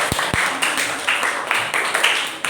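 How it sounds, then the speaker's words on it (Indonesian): Students clapping in a classroom for a classmate named Bintang, a short burst of brisk scattered applause from a small group, close and fairly loud, lasting a couple of seconds. "Tepuk tangan untuk Bintang."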